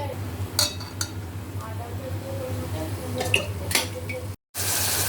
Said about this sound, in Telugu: ముందుగా స్టవ్ ఆన్ చేసి బాండి పెట్టుకుని ఆయిల్ వేసుకుందాం